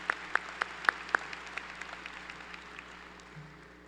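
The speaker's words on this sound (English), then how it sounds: "One more round of applause for our people here this day." A graduation commencement audience gives a round of applause, a few sharp distinct claps up front before a soft, distant patter of clapping fades away.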